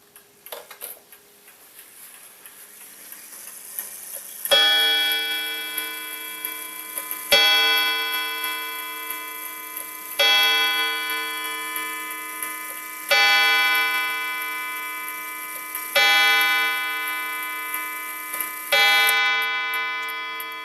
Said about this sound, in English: I'll just move it to 6 o'clock so you can see the chime working.